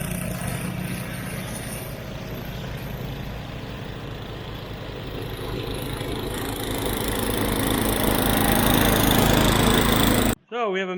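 Mastercraft snowblower engine running steadily close by, a loud continuous rough drone that builds slightly before cutting out abruptly near the end.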